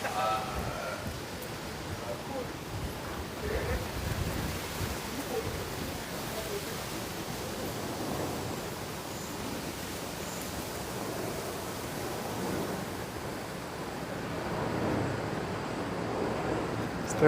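Steady wind buffets the microphone outdoors on a university campus walk, a constant rushing roar that swells now and then, and a voice is faintly heard under it.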